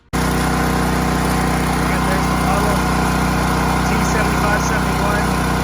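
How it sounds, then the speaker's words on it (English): A Firman T07571 tri-fuel generator running on natural gas while powering a house and a 3-ton air conditioner, giving a steady, loud engine drone with a low hum, constant and unbroken. "I'll show you a shot of the generator hooked up right now."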